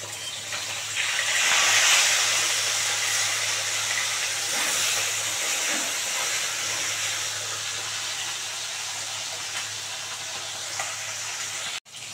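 Koi fish fry in hot oil, making a loud, continuous sizzling hiss that swells early and then holds steady, with a sharp clunk near the end.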